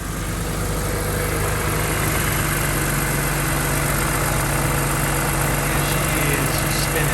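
A BMW car engine idles steadily with the air-conditioning compressor engaged, a constant loud hum and drone that holds even and unbroken throughout, with no voices.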